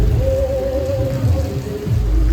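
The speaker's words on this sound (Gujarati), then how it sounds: "અહીંયા ફૂલ વરસાદ ચાલુ થઈ ગયો છે" Heavy rain falls steadily in a dense, continuous wash of noise during a downpour in Surat, with a low rumble underneath and no talk.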